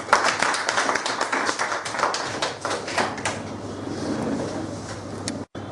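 An audience clapping at a company meeting, a burst of dense applause that thins out over a few seconds, heard from within the room.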